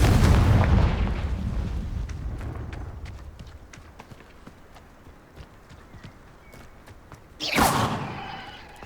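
Confringo blasting-curse explosion in the Hogwarts Legacy video game: a sharp, loud burst near the end, after a rumbling, busy stretch of game sound at the start.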